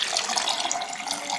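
Water pours into a bowl for sourdough bread dough in a steady, splashing stream for a moment, bright and close, with no voices.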